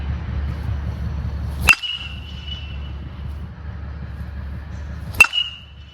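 Two sharp metallic pings from a 2022 StringKing Metal 2 BBCOR metal baseball bat striking a ball, spaced a few seconds apart, each with a short bright ring, over a steady low outdoor rumble.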